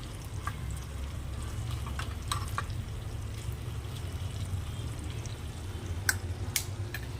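Crushed garlic sautés in hot salted Amul butter, giving a soft, steady close-up sizzle with occasional small crackles and pops.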